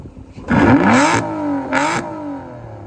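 An Aston Martin Vanquish Zagato Shooting Brake, stock, revs its engine hard in two loud bursts, the pitch rising and falling with each blip before settling to a lower rumble.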